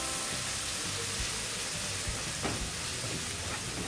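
Chopped tomato and peppers sizzle loudly in a pan on high heat, a constant dense frying hiss with occasional stirring scrapes, no voices.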